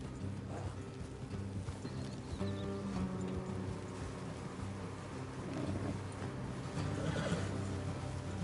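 Horse hooves clip-clopping at a steady walk along an off-road trail in Red Dead Redemption 2, with an occasional whinny and soft wind, moderately loud and continuous with no talk.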